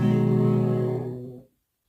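Super Mario Bros jump effect played two octaves down: a single low, buzzy harmonic tone held for about a second and a half before fading out, heard alone.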